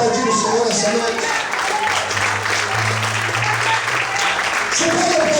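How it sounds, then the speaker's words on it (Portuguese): A church congregation claps together during an evening service, a dense, continuous round of applause filling the room, with a voice speaking over it at times and a low hum sustained underneath. "Vamos para aplaudir o Senhor essa noite"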